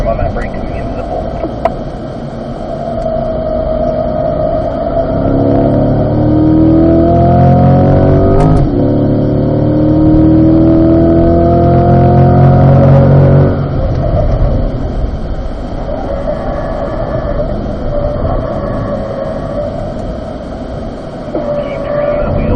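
Corvette on a race track at an owners' driving school, engine note rising as it accelerates out of a turn, loud and close in the cabin, with a steady hum and an instructor talking over it.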